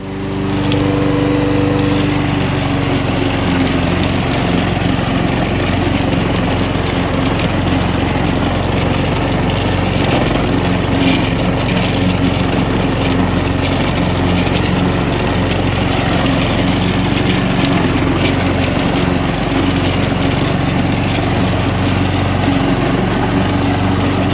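A lawn mower runs steadily at close range, its engine droning loudly and continuously with no pauses for the whole stretch, alone without voices.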